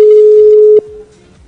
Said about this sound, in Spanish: Estamos llamando por teléfono en vivo.